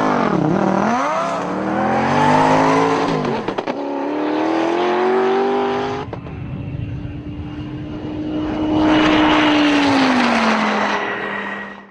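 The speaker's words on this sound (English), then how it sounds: "They're going to try and accelerate from rest to 200 miles per hour and back to zero in less than 30 seconds." 1000-horsepower turbocharged cars scream down a runway, accelerating from rest toward 200 mph, with loud engine notes rising through gear changes, a pass-by roar and a falling whine as one car slows.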